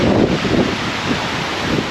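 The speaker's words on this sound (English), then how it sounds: "that's a pretty good gust" Strong wind gusts during Hurricane Ian in Fort Myers, loud roaring bluster hitting the microphone and rushing through trees, strongest at the start and then easing slightly.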